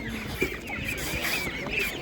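Chicks at an animal market chirp and peep in quick high bursts over a steady background hum, several birds close by without pause.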